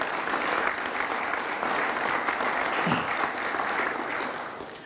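A studio audience on a TV news programme applauds steadily, dense clapping sustained throughout, fairly close and even in loudness.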